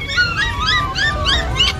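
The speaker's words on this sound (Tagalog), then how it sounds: "May mga aso rin, no?" Dogs at a market, a close, loud run of high whining yips and whimpers, several rising and falling cries in quick succession over low background murmur.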